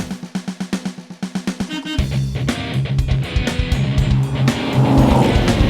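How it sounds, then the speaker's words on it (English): A Mopar Superbird muscle car driving, engine revving in pulsing bursts before settling into a loud, sustained roar that builds steadily close by. "we're driving a Superbird!"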